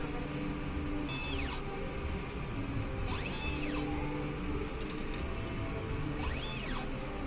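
A printer runs a print head cleaning cycle, giving a low steady mechanical hum with several faint rising and falling motor whines of the carriage and pump, with no talking.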